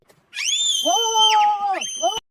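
A child in a film shrieks in a long, loud, high-pitched scream that breaks briefly and then surges again, standing alone without any talk over it.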